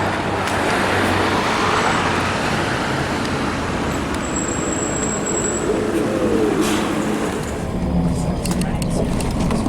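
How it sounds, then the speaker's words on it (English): A bus pulls up at a roadside stop in Crete amid loud passing traffic, its engine rumble blending with car noise close by, with voices talking over it. "There comes our bus to Adnik. It's running a bit late."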